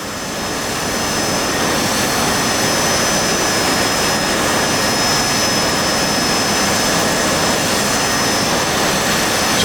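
A Harrier's jet engine roars in DCS World, a steady, loud, broadband whine-and-rumble that holds constant throughout with no voices.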